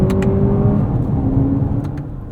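A 2024 Lexus TX 500h F Sport hybrid accelerates on a road in Austin, Texas, its engine note partly piped in by active sound control, a close, steady rising whir with a couple of faint clicks.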